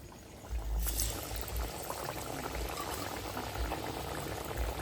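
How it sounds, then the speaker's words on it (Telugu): Palm fruit vadas (garelu) fry in a pan of very hot oil, giving a dense, steady bubbling and crackling close by with no voices. "ఆయిల్ చాలా బాగా మరిగింది కాబట్టి మనం ఫట్ఫట్లాడుతా మనం ఏంటంటే ఐదు ఆరు గారెలు వేసేద్దామండి"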